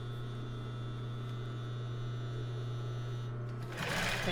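A sewing machine stitches fabric for a strapless topper with a steady, close motor hum running evenly, then a brief burst of brighter mechanical noise near the end as it reverses to backstitch.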